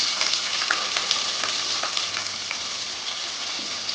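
Onions frying in hot oil with bay leaf, cardamom and cloves give a steady, close crackling sizzle with occasional small pops, and no talking is heard.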